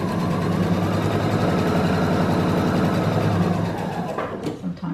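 A sewing machine stitches steadily with a fast, even mechanical whir and clatter close by, then slows and stops near the end with a few small knocks.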